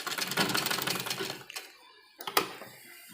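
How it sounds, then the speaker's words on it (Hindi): A sewing machine stitches a folded edge while a dupatta is converted into a suit, with a rapid rattling run that stops and then gives way to a few sharp clicks. "उसके बाद इस साइड हम सिलाई लगाएंगे"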